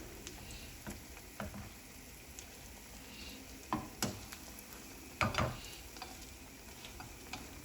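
Banana roast (pazham roast) fries in hot oil: a quiet, steady crackle broken by scattered ticks and a few louder spattering pops and clatters.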